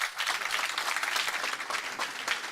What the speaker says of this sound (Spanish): Fuerte el aplauso para Werner Bayer.